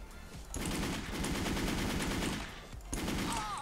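Rapid bursts of automatic gunfire from Kurt rifles in a video game, with dense back-to-back fusillades over most of the stretch, broken by a brief pause before another volley.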